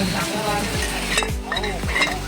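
Loud, continuous sizzling of chicken frying on a tava, with stirring and scraping sounds recurring throughout.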